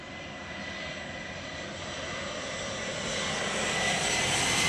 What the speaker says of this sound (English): Everybody up here for the Lufthansa A340